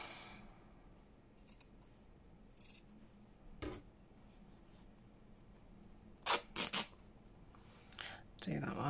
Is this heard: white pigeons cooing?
no